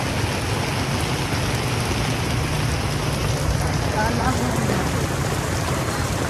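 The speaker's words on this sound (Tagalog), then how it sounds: "Ang lakas ng ulan." Heavy downpour in the Philippines at night, a steady, dense broadband hiss of rain filling the whole stretch without a break, loud and close, with no clear talk over it.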